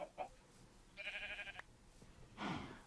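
A sheep in the modded Minecraft world of Feed the Beast gives a few short, quiet bleats, with a longer wavering bleat in the middle and another near the end.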